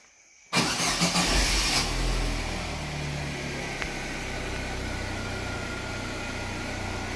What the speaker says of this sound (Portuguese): Pode ligar o carro